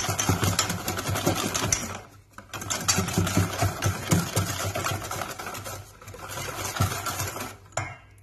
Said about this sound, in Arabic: غادي نخلطوهم مزيان حتى يندمج لينا السكر سنيدة والزيت